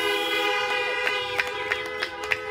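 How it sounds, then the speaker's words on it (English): Car horns honk at a drive-in church service on a church campus, several short toots spaced through the clip over a steady tonal hum, fairly faint and with no talking. "Let's honk for Jesus"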